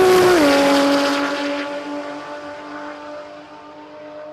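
A sports compact drag racing car at the Brisbane Jamboree screams loudly past at close range, its high engine tone dropping in pitch as it pulls away and fades into the distance.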